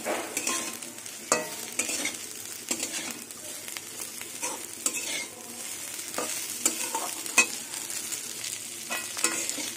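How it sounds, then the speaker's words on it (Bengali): Amudi fish and onion frying together in a pan, a steady close sizzle broken by frequent scraping stirs and light clinks of a spatula, with no talking. "এবার আমুদি মাছ দিয়ে পেঁয়াজ দিয়ে আবার কিছুক্ষণ ভাজবো মাছের সাথে"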